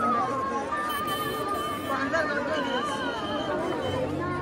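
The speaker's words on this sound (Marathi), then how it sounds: "गाईज आवरी गर्दी आहे ना, आवरी गर्दी" A crowd of devotees chatters at the Dagdusheth Ganpati temple, a dense, close babble of many overlapping voices that holds steady throughout.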